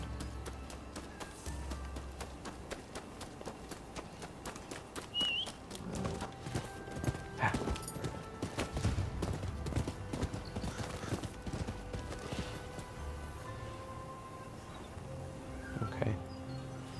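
Horse hooves clip-clop steadily through a 17-second stretch of the video game Rise of the Ronin, a continuous rhythmic trotting with faint whinnies and insect-like buzzing in the background.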